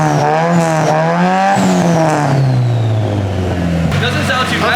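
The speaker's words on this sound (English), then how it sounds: "The turbo noise is insane." A car with a turbocharged SR engine revs hard and repeatedly, engine pitch climbing and falling loud and close, with turbo whistle and spool over the exhaust and people talking throughout.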